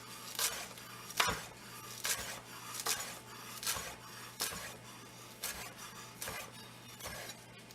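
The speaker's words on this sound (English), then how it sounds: "And then we're going to do really thin slices." A knife chops rapidly through rolled basil leaves on a cutting board, slicing them into thin strips with a steady run of about a dozen crisp, close taps.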